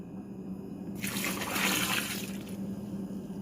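Warm water pours steadily into a bowl for ciambelle dough with yeast, a rushing splash of about a second and a half over low background hum, close and fairly loud.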